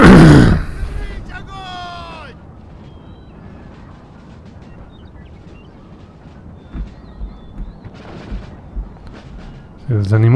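Round shot artillery firing in Empire: Total War during a 1726 Russian campaign battle, heard as a heavy opening boom and then a series of distant thuds near the end, with talk running through.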